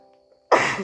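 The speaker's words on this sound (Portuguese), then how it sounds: "Perdão, vou ter que até espirrar na hora do vídeo" After a near-silent moment, a single abrupt sneeze bursts out close by, loud and breathy.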